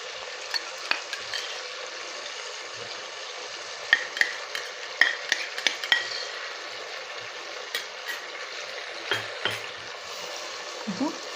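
Ginger garlic paste, tomato and onion sautéing in a pan for vegetable biryani, a steady close sizzle broken by sharp scrapes and clinks of a spoon stirring, with no talk.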